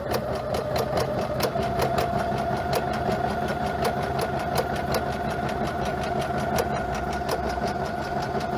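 A Baby Lock sewing machine fitted with an edge joining foot stitches steadily at high speed, producing a fast, even mechanical whir with regular rhythmic ticking, close and continuous without pause.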